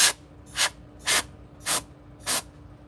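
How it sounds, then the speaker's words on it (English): Paint sprays from an aerosol can onto a wooden plank from a dollar store, five short separate hissing bursts evenly spaced, close and fairly loud, with quiet pauses between them. "the thing you need to remember is with this spray is don't shake the can"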